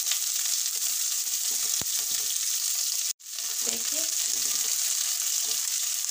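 Onions frying in a pan give a steady, loud broadband sizzle that runs through the whole stretch, with one brief dropout near the middle and faint clatter underneath.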